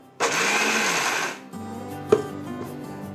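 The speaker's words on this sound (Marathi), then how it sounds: "मिक्सर सलग चालवायचा नाही," A mixer grinder grinds roasted peanuts in one loud, steady whirring burst that stops at about 1.5 seconds, then quieter rattling, a sharp clack and a low hum follow.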